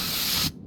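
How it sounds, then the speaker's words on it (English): Spray can hissing onto a car part in Car Mechanic Simulator 2021, one short steady burst that cuts off abruptly, close and alone. "We need some spray here."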